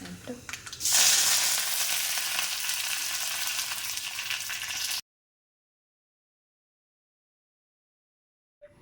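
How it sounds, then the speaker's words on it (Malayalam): Mustard seeds, dried chillies and curry leaves hit hot oil with a sudden loud sizzle and crackle that holds steadily for about four seconds, then cuts to silence. "കടുകും മുളകും കറിവേപ്പിൻ്റെ ഇലയൊക്കെ കൂടി വറവിടണേ, എന്നാലും അതിൻ്റെ ശരിക്കുള്ള രുചി കിട്ടുള്ളൂ."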